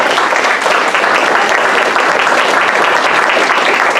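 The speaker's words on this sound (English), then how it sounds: "So with that, we owe you a round of applause, Celeste." An audience at a lakeside sailing club gathering breaks into sustained, fairly loud applause, a dense even clatter of many hands lasting several seconds without talk.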